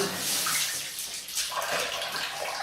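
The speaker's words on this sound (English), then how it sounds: "wash my hands a bit, get the oil off" Hands being washed under running tap water in a kitchen while cooking steak, a steady close hiss and splash of flowing water throughout.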